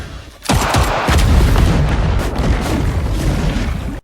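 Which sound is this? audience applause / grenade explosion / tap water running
grenade explosion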